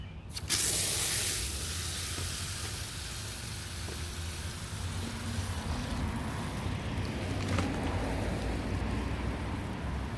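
Water sprays in a steady, close hiss over potting mix and peat in a small bucket, starting abruptly and continuing evenly with a few brief louder bursts.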